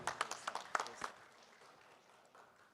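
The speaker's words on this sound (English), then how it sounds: "round of applause for Vicky" A brief round of applause for a presenter at a Safaricom business event: a handful of scattered claps near the start, fading quickly into quiet room tone.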